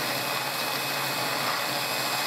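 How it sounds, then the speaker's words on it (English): Steady, loud whirring drone of a power drill running continuously into a fish head, broadband and even, with no pauses and no voices. "Get your drilling tools ready"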